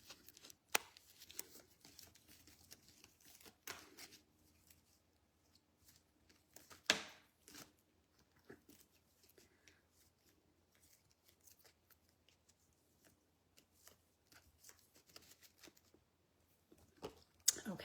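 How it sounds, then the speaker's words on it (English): Hebrew card deck being shuffled by hand, soft irregular riffles, slaps and papery clicks, quiet and close, with a few sharper snaps scattered through the stretch. "Let me go ahead and shuffle the Hebrew deck."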